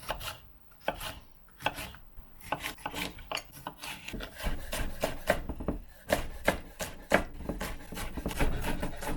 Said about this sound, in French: On enlève les pépins. On va faire des tranches fines.